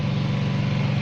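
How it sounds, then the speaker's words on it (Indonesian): A neighbour's lawn mower cutting grass, a loud steady motor drone with a pulsing low rumble filling the whole moment, no voices. "tetanggaku lagi potong rumput jadi rada berisik"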